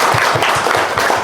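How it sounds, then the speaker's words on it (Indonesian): A crowd applauds in a dense, continuous wash of clapping, loud and close, with no break. "Tepuk tangan buat semuanya"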